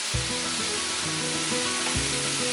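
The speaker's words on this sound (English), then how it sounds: "you can just saute it with the red wine" Dry Spanish chorizo in its casing sautéing with red wine in a pan, giving a dense, continuous close sizzle with a low hum underneath and no talking.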